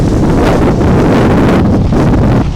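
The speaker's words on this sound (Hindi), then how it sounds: "तेज हवा चल रही है," Strong cyclone winds and heavy rain from Cyclone Biparjoy lash Dwarka, roaring loudly and continuously into the microphone as broadband buffeting with no pause, and no one speaks.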